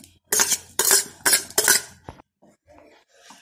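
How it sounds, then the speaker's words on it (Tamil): Boiled chickpeas go into a pot of masala for chana masala and are stirred, and a utensil scrapes and clinks in four sharp bursts, then softer scattered scrapes follow. "சென்னாவும் சேர்த்து நல்லா கலந்து"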